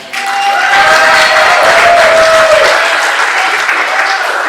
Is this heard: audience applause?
yes